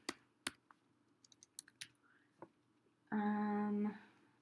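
Computer keyboard keys tapped one at a time while entering numbers, sharp sparse clicks at irregular intervals, followed by a brief tonal beep near the end.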